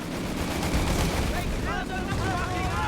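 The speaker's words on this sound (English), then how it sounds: "The LG-40 is opening up fire." An LG-40 anti-tank gun fires in a video game match, a dense booming burst of gunfire mixed with battle noise, with a voice talking over it.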